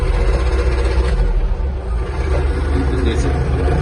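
A Yanmar EG-230 Japanese mini tractor engine rumbles steadily and loudly, holding a low drone with slight surges as it is revved.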